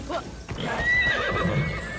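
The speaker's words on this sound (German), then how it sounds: "Ich dachte, dass das Pferd schafft es nicht." A horse in a video game whinnies loudly while hooves clip-clop beneath it, the neigh rising and wavering over the galloping rhythm.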